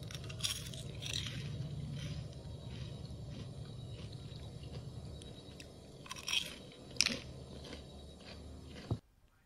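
Close, crisp crunching from someone chewing a hard, flour-battered fried snack, a few loud bites and crunches over a quiet background hum.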